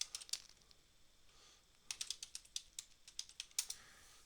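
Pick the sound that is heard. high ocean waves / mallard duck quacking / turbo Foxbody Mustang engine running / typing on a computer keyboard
typing on a computer keyboard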